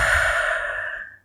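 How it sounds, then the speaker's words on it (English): A single deep breath, a long steady exhale lasting about a second that fades out, close and alone with no other sound. "Now let's take a deep breath as we say goodbye."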